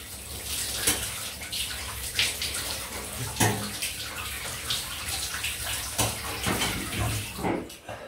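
Tap water runs steadily into a basin while shaving lather is rinsed off, a close, continuous splashing stream broken by irregular sloshes and hand movements in the water.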